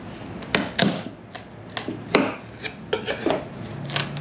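A pry bar works at a panel inside an enclosed cargo trailer, giving a series of irregular sharp clacks and scraping taps spaced over a few seconds, close and distinct against a quiet room.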